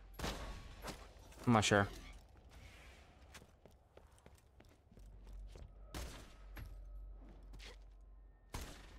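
Single gunshots from a weapon in Borderlands 2, fired one at a time with gaps between them, mixed with short speech, a few sharp cracks standing out over a quiet game background.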